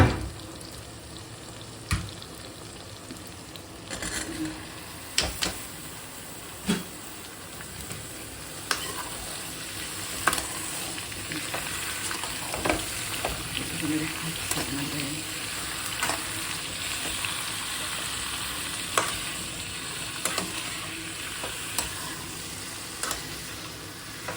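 Potato and eggplant pieces sizzle and fry in hot oil with tempering spices and tomato, a continuous crackling hiss punctuated by sharp clatters of stirring, with no talking.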